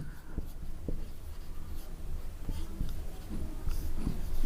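Pen or chalk writing out geometry working for a Class 7 quadrilateral lesson, heard as soft scratchy strokes in short bursts over a low room hum, close and fairly quiet with no talking.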